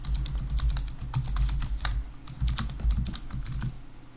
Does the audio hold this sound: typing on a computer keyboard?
yes